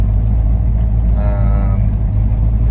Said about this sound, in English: All right, a little bit of a test drive after doing some fresh fuel.